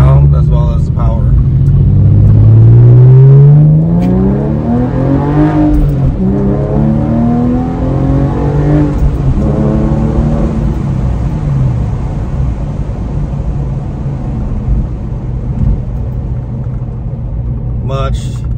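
A Porsche 997 fitted with a K&N cold air intake and elbow kit revs between 3,000 and 6,000 RPM, a loud, sustained engine rumble with rising and falling pitch sweeps, tapering to a steadier drone.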